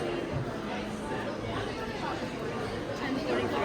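A theater audience leaving a Broadway musical performance in Orlando fills the space with a continuous murmur of overlapping conversation, a dense babble of many voices nearby.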